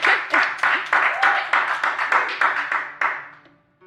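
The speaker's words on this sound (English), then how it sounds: "It's so nice to hear clapping." Rhythmic clapping in regular bursts, about a dozen evenly spaced beats, close and fairly loud, fading out at the end, with voices faintly beneath.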